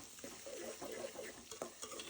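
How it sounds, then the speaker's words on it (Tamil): Quiet sizzling of onions frying in oil, with soft scraping stirs of a spoon against the pan at irregular intervals. "அந்த வெங்காயத்தை இதுல சேர்த்து நல்லா கிளறி விடுறோம்."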